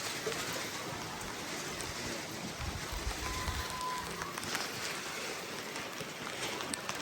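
Steady broadband hiss of rain falling, constant and fairly loud with no pauses, like a downpour close by on a hard surface.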